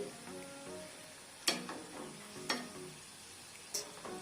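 Chicken popcorn frying in oil gives a soft, steady sizzle, broken by three sharp clinks and scrapes as the pieces are stirred. No voices.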